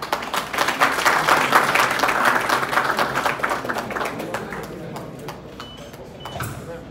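Audience applause at a university chair launch ceremony, a dense clapping crowd that swells loudly, holds steady for several seconds and then tapers into scattered claps near the end, with faint talk underneath.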